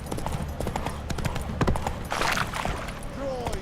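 Hooves of Geralt's horse Roach clip-clopping in a steady galloping rhythm in The Witcher 3, close and loud, with a brief whinny and a voice talking over part of it.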